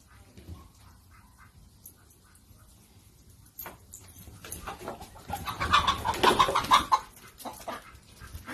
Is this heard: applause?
no